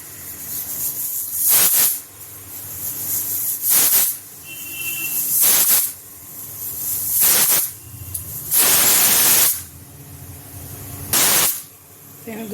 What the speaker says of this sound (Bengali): এখানে দুটো সিটি হয়ে গেছে আমার।